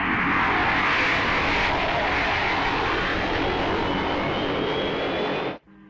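An aircraft takes off with a loud, broad roaring engine rush that holds steady for several seconds before cutting off abruptly near the end, with no talking.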